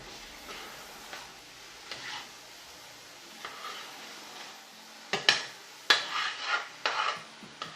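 Zarda, a sweet rice dish, being stirred and mixed in a pot over low heat, with soft scraping strokes that grow into several sharp metallic clinks of a spoon against the pot near the end, close up and without speech.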